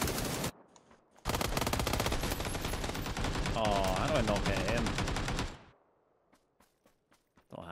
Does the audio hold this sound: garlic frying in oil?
no